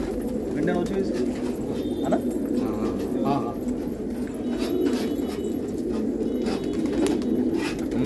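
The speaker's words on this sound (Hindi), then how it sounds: "माशाल्लाह कबूतर एक से खूबसूरत देखने को मिलेगा" Pigeons at a pigeon keeper's place in Old Delhi coo in soft, repeated low calls under steady background noise, with occasional faint sounds around them.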